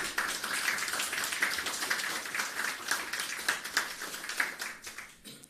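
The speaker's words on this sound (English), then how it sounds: "Give him a round of applause" Audience clapping for Minister of Agriculture, Fisheries and Mining Floyd Green at a media briefing on hurricane recovery; moderate, steady applause from a small crowd that carries on for several seconds and thins toward the end.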